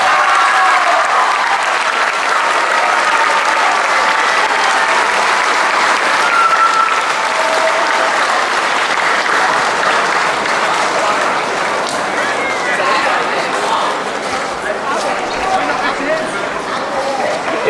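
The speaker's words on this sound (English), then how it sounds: "can we just give another round of applause for Mr. Will?" Sustained applause from a school assembly audience honoring a guest at an intermediate school, a dense, even wash of many hands clapping that holds steady throughout, with faint voices mixed in.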